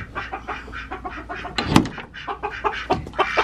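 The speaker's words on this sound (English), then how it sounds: "I'll let my chickens out in the meantime." Chickens cluck and chatter busily at close range as they are let out of their backyard coop, giving a steady run of short, overlapping calls with a sharp flap or thump midway through.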